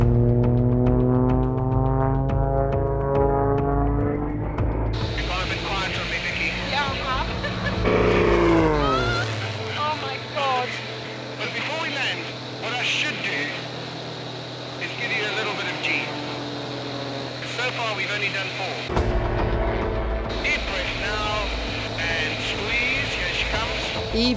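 A stunt plane's propeller engine roars loud and steady through a hammerhead manoeuvre, its droning pitch rising, then sliding down and shifting as the aircraft climbs, stalls and rolls on the way down, with voices talking over it.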